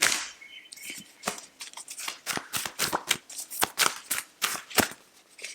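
Yogic Path oracle cards being shuffled by hand, a rapid run of crisp, close riffling slaps and flicks with no talking.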